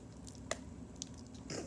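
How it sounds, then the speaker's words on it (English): Crunchy slime squished by hand, giving a few brief crackling crunches against a steady low background hum, with a louder squelchy burst near the end. "here's the crunching sound."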